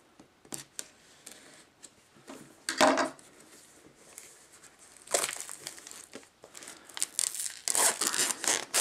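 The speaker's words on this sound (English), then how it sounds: "Pull the plastic off." Plastic wrap is torn and crinkled off a Windows 7 Ultimate software box, giving scattered rustles and short rips, then longer loud bursts of crumpling plastic near the end.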